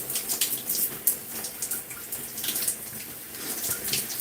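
Water runs steadily from a tap while hair is rinsed out on a wash day, a close, continuous splashing hiss that shifts and spatters as the stream is moved through the hair, with no talking.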